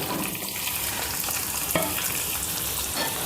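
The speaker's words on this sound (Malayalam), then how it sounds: "ഇതിലേക്ക് രണ്ട് തണ്ട് കറിവേപ്പില ഇട്ട് കൊടുക്കാം ഒപ്പം ഒരു എട്ട് പത്ത് ഉള്ളി അരിഞ്ഞതാണ് അതിട്ട് കൊടുക്കാം" Curry leaves and chopped shallots fry in a pan for a bitter gourd dish, a loud, dense, continuous sizzle with a few spatters, close up and without speech.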